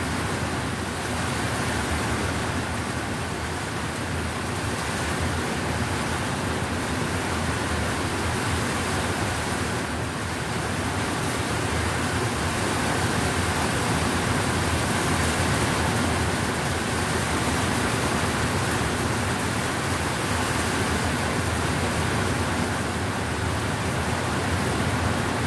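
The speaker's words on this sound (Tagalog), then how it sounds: "Pasok yung ulan do." Heavy rain falls steadily outdoors, a loud, unbroken hiss of rain on surfaces lasting the whole stretch without any voices.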